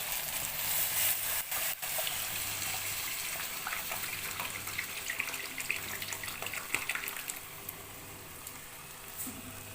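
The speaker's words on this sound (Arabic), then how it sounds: "احط شويه ميه صغار كده مش هكتر ميه عشان الرز منقوع" Water is poured in a thin stream onto soaked ordinary non-basmati rice in a pot, a steady close splashing trickle that runs for about ten seconds with no talking.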